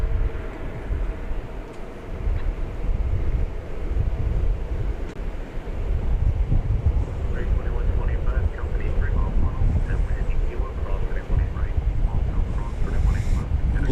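An AirCal airliner flies over at Dallas Fort Worth Airport, a low, steady rumbling drone with wind buffeting, heard under someone talking throughout.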